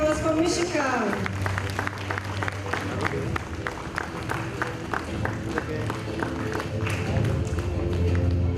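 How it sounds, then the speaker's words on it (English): Applause from an audience at a kids' school annual day, steady broadband clapping over music with a low sustained tone, some tapping and voices mixed in, moderately loud and continuous throughout. "A huge round of applause for Mishika."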